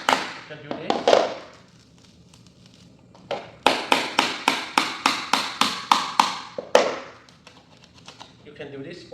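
Sharp chisel taps on a damaged laminate floor plank, struck about a dozen times in a quick steady series of close, loud knocks, after earlier scattered impacts.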